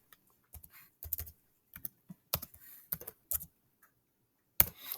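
Short bursts of typing on a computer keyboard as a title is entered, close and crisp key clicks in a few uneven clusters with pauses between them and no talking.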